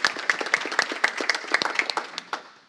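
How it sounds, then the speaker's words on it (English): Applause at a EuroPython 2024 open source sustainability panel, a short burst of rhythmic clapping from the audience fading out over a few seconds. "And one round of applause."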